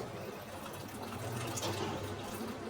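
Water drains from cooked biryani rice through a strainer ladle as a soft, steady trickle and splash, faint and continuous, with no voices.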